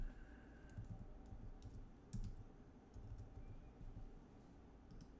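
Soft keystrokes on a computer keyboard come in scattered clusters of light clicks, faint and fairly close, with a few louder taps among them over a quiet low background hum.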